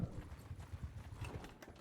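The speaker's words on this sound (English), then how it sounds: "A lot of horses. A lot of horses here." Horses gallop in the video game Bannerlord, a fast, close clatter of hoofbeats drumming in an uneven running rhythm, fairly quiet and brief.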